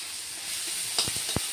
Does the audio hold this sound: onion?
yes